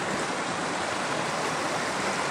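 Mountain creek near old gold-mine workings, water rushing steadily and loudly as a dense, even broadband wash with no breaks or voices.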